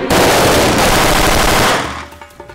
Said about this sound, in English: Target with one burst of fully automatic fire on command.